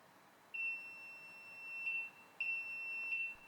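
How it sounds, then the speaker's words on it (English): Desktop semi-automatic filling and stoppering machine sounding its alarm buzzer, two long steady electronic tones with a short gap between, clear and alone against a quiet room. "The buzzer will sound and the alarm light will flash."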